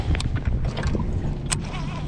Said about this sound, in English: Trolling motor on high.